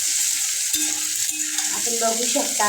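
Cucumber and tomato sizzle in a pan over a low flame for soya bean biryani, with steady stirring and scraping clinks over continuous frying hiss, while a voice speaks briefly.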